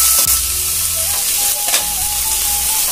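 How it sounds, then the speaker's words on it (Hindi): Peas tipped into a hot pan while making bread upma, giving a steady sizzle and frying hiss with a few stirring scrapes. The pan is close and there are no voices. "और फिर मटर डालेंगे."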